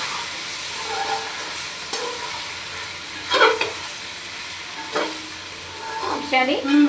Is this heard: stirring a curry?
yes